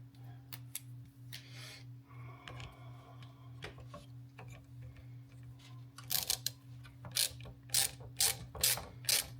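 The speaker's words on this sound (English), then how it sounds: "And let's get these screws in." A ratchet tightens screws on the window regulator of a Jaguar XK8 convertible, giving rapid clicking pawl bursts, sparse at first and then louder, close-up clusters near the end, over a steady low hum.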